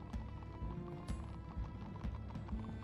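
Horse hooves clip-clop in Minecraft Story Mode, a steady series of soft thuds at moderate loudness over a busy game soundtrack, with a brief whinny-like tone near the middle.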